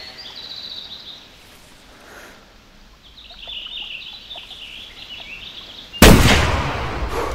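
A single sharp, loud rifle shot at a mule deer in theHunter Classic game cracks out near the end, following quiet outdoor ambience with faint bird calls, and its echo decays for over a second afterward.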